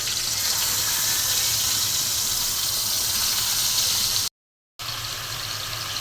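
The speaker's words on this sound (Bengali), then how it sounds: "আর বেগুনটা ভেজে নিচ্ছি।" Eggplant frying in a pan, a steady loud sizzling hiss heard close up and unbroken apart from a brief cut of silence, with no talking.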